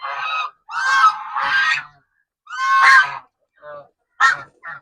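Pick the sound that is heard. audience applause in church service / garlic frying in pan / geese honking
geese honking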